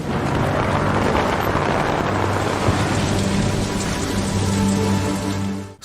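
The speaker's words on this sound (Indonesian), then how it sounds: "Ia berdiri di seberang patung besar sambil memegangi payung di bawah hujan petir yang maha" Heavy rain with thunder pours down in a constant dense hiss, with deep booming rumbles rolling underneath and faint sustained tones in the background.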